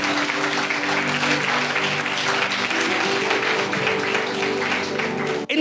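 A church congregation applauds during a sermon, broad continuous clapping filling the room and ending with a sharp knock near the close.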